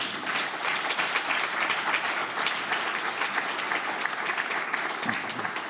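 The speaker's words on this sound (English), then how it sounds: "so please give a hand to these institutions" Audience at a conference hall giving sustained, even applause, a broad steady wash of many hands clapping from start to finish.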